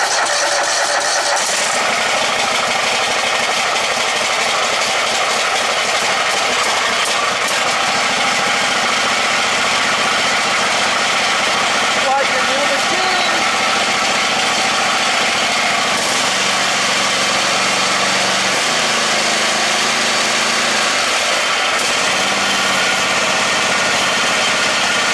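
A Poulan Pro small engine catching and running, a loud close buzzing idle that holds steady for most of the time, with shifts in pitch as it settles near the end.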